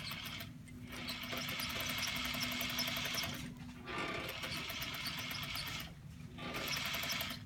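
A brand-new sewing machine runs quietly in steady bursts of motor whir, stopping briefly twice between runs, with no talking.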